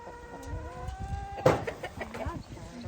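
Chickens in a backyard homestead pen in Australia, with soft clucks and a brief squawk close by, heard among faint farmyard noise and a little background talk.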